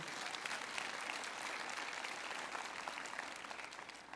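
A church congregation applauding, a steady, even wash of many hands clapping throughout, fairly distant and unbroken, with no clear talk over it.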